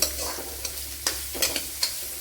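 Sliced onions sauté in a pan for drumstick leaf thoran, a steady soft sizzle broken by a few sharp scrapes of a spatula, close and moderately loud with no voices.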